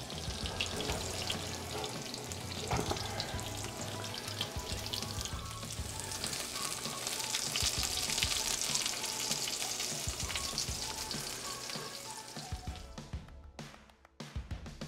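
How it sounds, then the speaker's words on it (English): Meat cutlets sizzle and crackle steadily in hot oil and butter, a dense hissing fry that carries on throughout, with a few clatters near the end. "Frying them in oil or butter"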